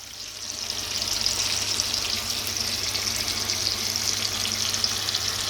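Chicken fries in oil with chilli paste on low heat, a steady, close, even sizzle that holds unchanged throughout with no voices.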